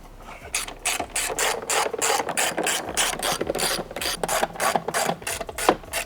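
A hand ratchet rapidly clicks as it tightens the 10 mm nuts on the carbon fiber APR intake of a Porsche 992 911, a fast, continuous run of sharp close-up pawl clicks in repeated bursts with no talk.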